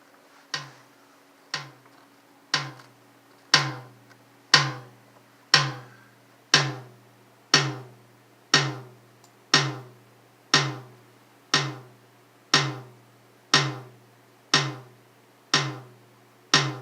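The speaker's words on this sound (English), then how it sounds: "this is the sound of a tum that I'm going to pan left and right" A single tom drum sample strikes about once per second, each resonant hit decaying quickly before the next in a steady, even series of roughly sixteen beats, with no talking.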